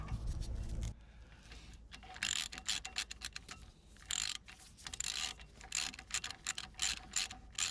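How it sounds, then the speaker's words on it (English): Torx bolts being ratcheted into the front wheel hub of a Ford Transit Mk7 during a wheel bearing change, with bursts of quick metallic clicking in several runs and pauses between them, close and clear with no talking. "nice new Torx bolts to go in."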